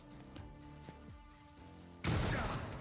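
A stun grenade goes off in Rogue Trader as a sudden loud, broad burst near the end, following a stretch of quieter tones and small clicks.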